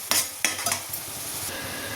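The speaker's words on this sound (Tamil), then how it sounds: "வெங்காயம் விழுது வதங்கிட்டுருக்கு." Onions sauté in oil for a fish curry, a soft sizzle under a few sharp metal-spoon clinks and scrapes against the pan.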